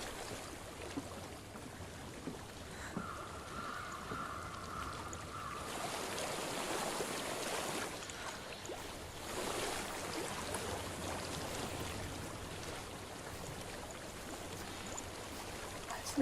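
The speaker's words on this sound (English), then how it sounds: "I hear water. Go to it." Water streams steadily through the game world of Hellblade, a soft continuous rush and trickle that swells in the middle and carries on alone without any voices.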